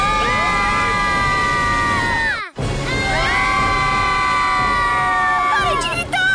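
Animated cartoon characters shout and yell together in a loud, sustained chorus over music, cut by a brief silent gap before the shouting resumes.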